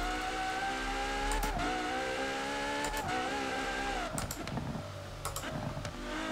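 An Apollo sports car engine in Forza Horizon 4 whines and revs under acceleration, with pitch rising and shifting through gears, alongside a few sharp clicks.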